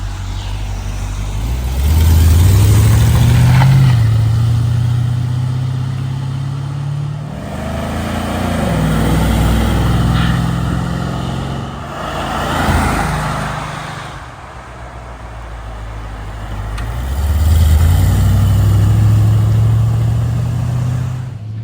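A 1978 Aston Martin V8 Coupe in Aztec Gold makes repeated flybys, its V8 engine rising loud as it nears, revving and fading away between passes with no talk.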